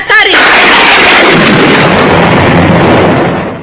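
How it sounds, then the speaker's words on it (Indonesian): A sharp, loud crack of thunder breaks at once into a long, heavy rolling rumble that fills the space and slowly fades over several seconds, part of a dramatized historical story. "Petir yang menjawab suaramu, Uma Durga."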